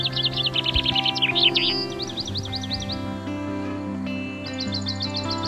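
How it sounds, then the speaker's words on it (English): Birds sing and chirp outdoors in Australia in short, repeated high phrases, fairly close and clear over a quiet background hum, with no talking. "I enjoy the silence and just the birds singing."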